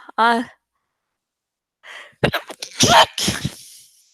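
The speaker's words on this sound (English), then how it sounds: "okay, I think another sneeze is coming up." A sharp breath in, a brief pause, then a loud, explosive sneeze with breathy sputtering after it, close to the listener.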